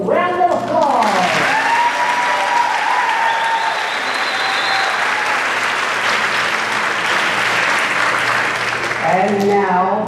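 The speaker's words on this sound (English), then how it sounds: "Let's give them one more round of applause." Sustained, loud audience applause for contestants at an annual Dairy Festival pageant in a school auditorium, dense clapping holding steady for several seconds, with a voice heard briefly at the start and end.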